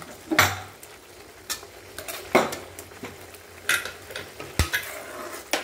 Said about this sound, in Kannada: ಇವಾಗ ಇದು ಚೆನ್ನಾಗಿ ಈ ಥರ ಮಿಕ್ಸ್ ಮಾಡಿಕೊಂಡು ಜಾಸ್ತಿ ಉರಿಲೇ ಫ್ರೈ ಮಾಡ್ಕೊಳ್ಳೋಣ.